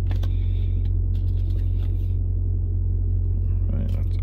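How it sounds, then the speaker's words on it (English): A truck trailer's refrigeration reefer unit runs at a truck stop, a constant low mechanical drone underneath, with faint intermittent clicks and rustles above it. "If you guys hear a noise in the background, that's the reefer unit from the trailer."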